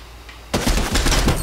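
Opponent gunfire in Fortnite rings out as a sudden, close, rapid burst of several shots after a quiet moment, loud and alone.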